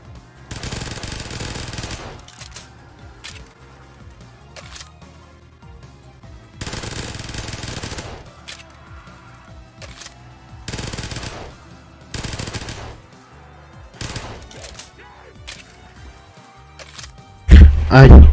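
Bursts of MAC-10 submachine gun fire in a Black Ops 3 custom zombies map, firing in several separate loud volleys with quieter gaps between them, followed by a final heavy blast at the very end.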